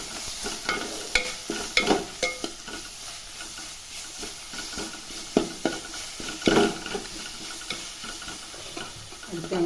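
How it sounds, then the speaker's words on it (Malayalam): Green chicken masala with garlic is stirred in a pan, with a soft frying sizzle under repeated irregular clinks and scrapes of the spoon against the metal, heard close and fairly quiet. "നന്നായി ഇളക്കി കൊടുക്കാം."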